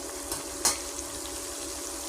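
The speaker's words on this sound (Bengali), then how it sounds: "ভাজছি তো শাক তরকারি করবো" Soft, steady sizzling of leafy greens and vegetables frying in oil, with a brief stirring clatter partway through; quiet and close, no voices.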